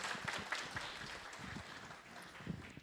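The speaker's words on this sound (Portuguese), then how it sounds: "Salva de palmas, palestrante." Faint, distant audience applause after a talk on electoral advertising by an electoral lawyer at a meeting, a steady wash of scattered hand claps lasting throughout without clear voices.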